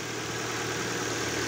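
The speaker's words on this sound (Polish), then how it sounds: "Silnik pracuje." A revived flood-damaged Ford Focus engine idles steadily, a continuous even hum with a low throb, close and moderately loud throughout.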